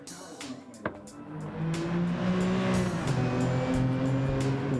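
A drifting BMW in Gran Turismo 7 holds a loud, sustained engine drone with shifting pitch and tire squeal, starting after a brief sharp knock and running steadily to the end.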